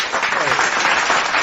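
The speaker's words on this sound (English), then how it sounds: "Hey, give that man some applause, Mo" A short burst of crowd applause on a talk show, dense clapping that is close and loud, with voices blended in.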